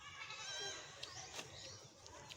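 A goat bleats once, close by: a short, wavering, nasal cry that rises and falls over a couple of seconds against faint background noise.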